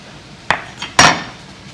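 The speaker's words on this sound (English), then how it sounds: "you want to cut the sausage into small pieces" A knife chops chicken sausage into bite-sized pieces on a board, three sharp clacks of the blade striking, the last loudest, with quiet gaps between.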